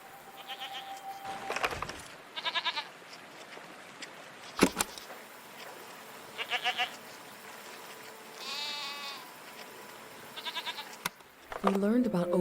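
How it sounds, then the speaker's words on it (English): Goat-like animals bleating in the video game A Letter to the Future, several short wavering bleats repeated at intervals against quiet ambience, fairly close and clear, with a few soft thumps. "What are these strange goat-like creatures? Are they simply goats?"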